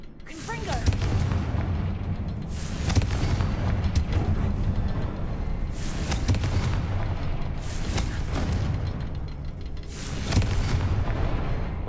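Booming blasts from a Confringo fire spell in the game Hogwarts Legacy, several heavy explosions recurring every couple of seconds over a dense, rumbling game soundscape.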